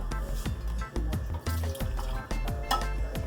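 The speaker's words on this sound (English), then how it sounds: "Put the warm water in here." Warm water poured into a dish while making Laos vegetable-wrapped spring rolls, heard as close sloshing and splashing in uneven bursts, with no talking.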